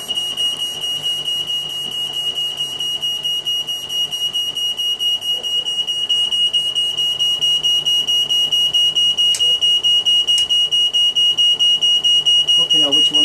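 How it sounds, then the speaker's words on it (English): Smoke alarms go off after a large homemade flyback transformer melts its end, giving a steady, piercing high beep that holds loud and close throughout, with faint voices underneath. "And it set the smoke alarms off."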